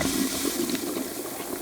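Water running continuously down wall-mounted urinals in a boys' bathroom, a steady close rushing trickle with no other sounds.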